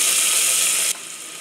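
Hot oil hissing loudly in a pressure cooker as chopped onion sizzles, a steady dense close sizzle that drops suddenly to a quieter hiss partway through.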